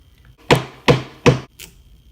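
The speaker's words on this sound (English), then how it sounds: "if you split the wood, if you just start your knife about in the middle" Knife splitting a piece of wood along a straight vertical grain while carving a wooden needle: three sharp, close cracking taps about a third of a second apart, followed by a fainter fourth tap, with no talk.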